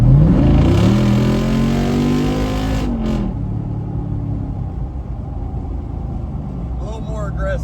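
Jeep Wrangler Rubicon 392 accelerating hard at full throttle from about 40 mph in automatic, a loud rising engine roar that then drops into a steady rumble, heard from inside with a voice talking over it.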